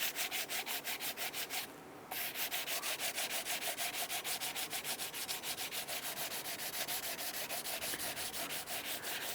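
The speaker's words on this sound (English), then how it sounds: "Use your sandpaper and go ahead and clean up the surface." Sandpaper scrubs the exhaust manifold gasket surface on a 1999-2004 Jeep Grand Cherokee 4.7L V8 in fast, even back-and-forth strokes. The steady rasping rhythm is close and continuous, with one brief pause.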